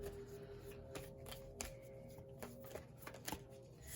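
Tarot cards being shuffled by hand, a steady run of soft riffling and snapping with several sharper card slaps, close and fairly quiet with no talking.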